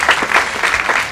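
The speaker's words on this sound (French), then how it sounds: "est-ce qu'on peut faire mieux à titre d'applaudissement" Applause from an audience at a lively French-language speaking event, a dense, steady wash of clapping filling the whole moment, close and fairly loud with no voices over it.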